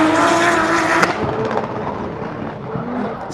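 A drift car at full throttle roars loudly during a practice run, its engine and tyre noise dense and close before easing slightly as it moves off.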